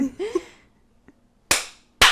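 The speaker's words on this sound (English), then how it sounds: "You can clap too." Two sharp, loud hand claps ring out about half a second apart near the end, after some earlier talk and a faint click.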